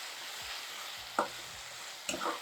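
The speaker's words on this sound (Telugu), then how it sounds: "ఉప్పు వేస్తే ఈ ఉల్లిపాయలు అవి తొందరగా చక్కగా వేగుతాయి" Onions frying with salt in a pan for brinjal tamarind curry, a soft steady sizzle with a couple of brief stirring scrapes near the end, quiet and without talk.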